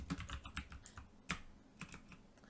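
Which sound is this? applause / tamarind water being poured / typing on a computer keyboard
typing on a computer keyboard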